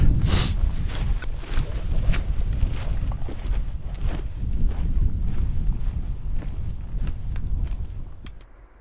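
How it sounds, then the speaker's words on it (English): Cold wind gusting through frosted trees on Mt Akagi in Japan, a steady rushing roar buffeting the microphone, with faint crunching steps underneath before it fades at the end. "I think the wind has just been blowing the frost off of the trees"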